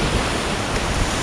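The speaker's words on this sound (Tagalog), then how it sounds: "Grabe ka lalaki ng alon." Big ocean waves off Palawan during a fishing trip, a loud, dense wash of surf noise filling a brief moment, close and continuous with no talk.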